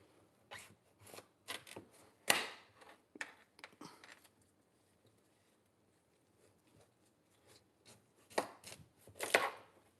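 A homegrown yellow-orange pumpkin being cut up with a knife, a series of crisp chopping and slicing strokes, quite close, clustered at the start and end with a quiet stretch between them.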